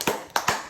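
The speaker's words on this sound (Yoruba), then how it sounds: "ẹ pàtẹ́wọ́ fún un" Children clap for Mubarak during a counting game, a few quick, sharp claps spread unevenly across less than a second.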